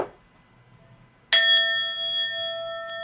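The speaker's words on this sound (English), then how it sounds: "You can ring the bell." A single meditation bell is struck once during an online meditation session, ringing out with a clear, sustained metallic tone that lingers and slowly fades, alone in a quiet room.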